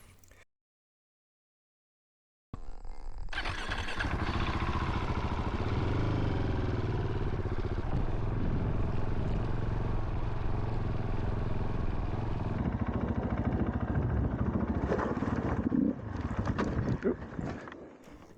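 An adventure motorcycle labours up a steep, rough, damaged access road. After a brief quiet start, the engine drones loudly and steadily close by for the rest of the ride, with occasional rattles and bumps.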